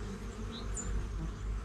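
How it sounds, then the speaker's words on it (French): Honeybees flying in and out of a hive entrance in a garden, a steady low buzzing hum close by and continuous throughout with no talking. "il y a des abeilles qui rentrent et qui sortent"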